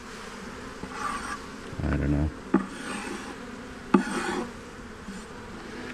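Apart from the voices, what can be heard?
bees buzzing in a hive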